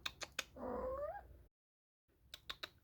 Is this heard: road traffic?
no